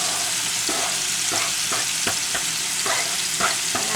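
Ground beef and onions fry in a pan for taco lasagna, a loud steady sizzle close up, punctuated by rhythmic scraping stirs about every half second, with no voices.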